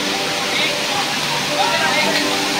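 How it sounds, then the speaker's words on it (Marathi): A small waterfall pours water through a gap between two rocks, giving a close, steady rushing splash that runs unbroken throughout, with a voice faintly present beneath the flow. "पाणी गळतं खडकातून 2 दगडांच्या मधनं पाणी वाहता झरो"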